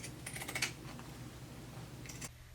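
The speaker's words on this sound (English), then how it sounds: "I'm going to finish off my pocket using my pinking shears." Pinking shears snip through the fabric of a gathered maxi skirt pocket, giving a few quick, close crunching cuts early on and another short burst near the end over a steady low hum.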